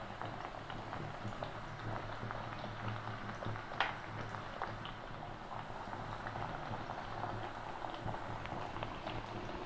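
Pieces of dough deep-frying in hot oil make a steady bubbling, frothy sizzle with light crackles, close and even throughout.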